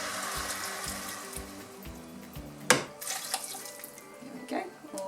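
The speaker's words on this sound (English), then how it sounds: "Now we're ready to add our vegetable stock." Vegetable stock pours into a soup pot, a watery running rush over soft background music, followed by a clunk and some splashy stirring near the end.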